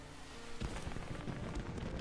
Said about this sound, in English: The fireworks scream into the night sky before exploding brilliantly above Cliffwatch Town.